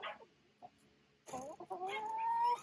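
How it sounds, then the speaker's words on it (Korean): Chickens cluck and squawk in a newly built coop as birds scuffle over territory, short sharp calls then a longer run of agitated clucking, fairly close and alone. "근데 이게 들어오자마자 이것들이 텃세를 부리면서 싸우네요"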